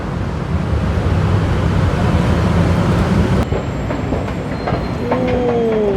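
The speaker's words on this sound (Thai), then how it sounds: "นี่คือมุมสูงของรถไฟฟ้า BTS สถานีอโศกนะครับ" BTS Skytrain at Asok station in Bangkok at night, seen from a high vantage point: a steady loud rumble of a passing train with rail clatter, then rising wheel squeal and whining tones toward the end.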